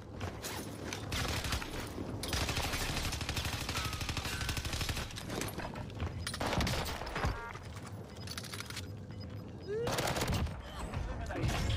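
Video game gunfire crackles in rapid bursts and fusillades, dense and continuous with brief pauses, mixed with mechanical clicks and game effects.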